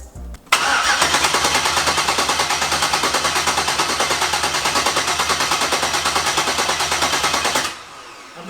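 Twin turbo Chevrolet Malibu engine being cranked over with a kill switch engaged: a loud, close, rapid pulsing starter churn that runs steadily for about seven seconds before cutting off abruptly.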